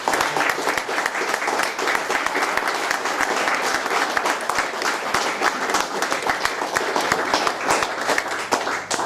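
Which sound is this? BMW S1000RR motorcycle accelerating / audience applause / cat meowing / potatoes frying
audience applause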